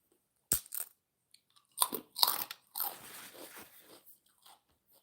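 Someone bites into crunchy Thai pork rinds close to the mic, with several sharp crisp crunches followed by softer chewing crackles in a quiet room.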